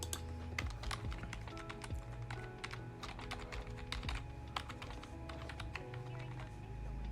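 Rapid computer keyboard typing during design work in Figma, with steady clicking keystrokes in irregular bursts, close and moderately loud, running continuously with no talking.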